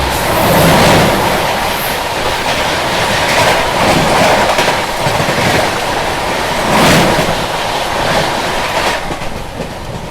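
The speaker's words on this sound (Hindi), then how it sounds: "तो अभी अपनी ट्रेन पहुंच चुकी है आलमनगर रेलवे स्टेशन" A Ganga Sutlej Express rolls loudly toward Alamnagar station, a continuous roaring rush with rhythmic clickety-clack from the wheels, heard up close from aboard the train with no voices.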